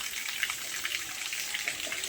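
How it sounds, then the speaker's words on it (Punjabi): Water spilling over the top of a full overhead tank beside a vegetable patch, a steady soft hiss and splash that runs unbroken and fairly faint throughout, with no voices. "ਪਾਣੀ ਡੁੱਲ ਰਿਹਾ ਸੀਗਾ ਟੈਂਕੀ ਓਵਰ ਹੋ ਕੇ"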